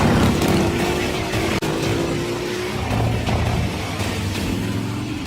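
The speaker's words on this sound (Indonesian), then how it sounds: "mereka berdua memacu motornya dengan kecepatan tinggi" Two motorcycles race at high speed in a film scene, their engines a loud, continuous roar with a rising whine, a brief cut, then a lower sustained drone.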